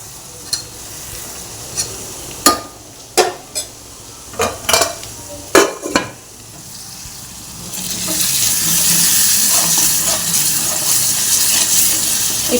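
Spice tempering for chicken curry in a pan, with several sharp clinks and stirring knocks of a utensil at first, then a steady sizzle of frying rising and continuing to the end.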